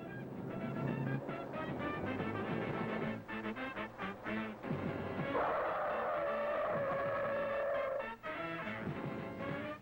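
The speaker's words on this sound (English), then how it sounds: "The 50-mile-an-hour stop chewed up 91 feet before we brought it to a halt." A Chevrolet Vega with front disc and rear drum brakes stops hard from 50 mph, its tires squealing loudly and continuously for several seconds with a wavering pitch, over the car's noise.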